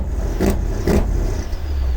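A Mercedes-AMG car with a straight pipe exhaust gives two short, loud revs close by, each a brief rising burst over a steady low engine idle, with no voices heard.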